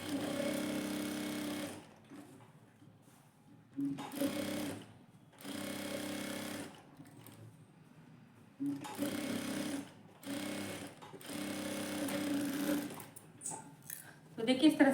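A sewing machine stitches the lower princess-cut joint of a belted blouse in several short bursts of close mechanical whirring, separated by pauses, with someone talking in between the runs.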